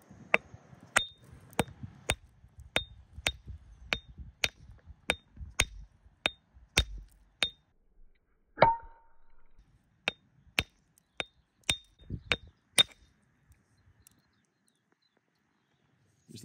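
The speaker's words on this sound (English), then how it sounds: "Let's give it a crack with the smaller hammer" A long series of sharp, ringing small-hammer taps on shale, evenly spaced about half a second apart, with a brief pause midway before the tapping resumes.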